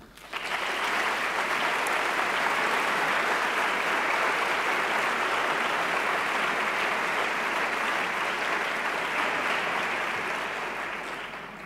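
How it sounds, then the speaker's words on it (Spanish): An audience at a talk bursts into sustained, even applause from many hands, loud and continuous for about ten seconds before starting to taper off. "Os pido un aplauso para ellos que siguen dándonos su apoyo en este camino"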